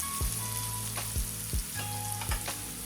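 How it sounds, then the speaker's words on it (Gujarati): Pieces of melon sauté in oil over a medium gas flame, a steady close sizzle broken by several rhythmic scraping strokes of a spoon against the pan, with no talking. "આપણે તેલમાં સાંતળવાનું છે સાકરટેટીને, આપણે મીડિયમ ગેસ ઉપર તેને સાંતળવા દઈશું"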